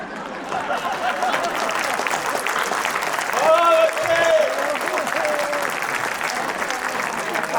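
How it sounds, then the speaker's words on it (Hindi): Steady, dense audience applause at a Hindi kavi sammelan poetry recital, loud and sustained throughout, with a brief high whistle or call rising above the clapping midway. "ताली अगली बात पर है कुमार सर"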